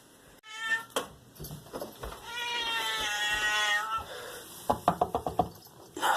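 A hungry cat waiting to be fed meows loudly in a long, drawn-out wail, with shorter meows before and a quick series of chirpy meows afterward.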